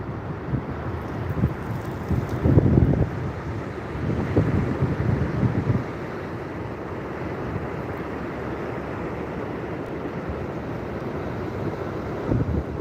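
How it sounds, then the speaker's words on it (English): Strong gusty wind on a Florida beach buffets the microphone in a continuous roar, with surf washing in the background and gusts swelling then easing. "It is quite windy."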